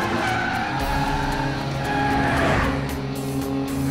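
A car driven fast, a loud continuous engine roar with a rising whine and tire squeal near the middle, close and steady throughout.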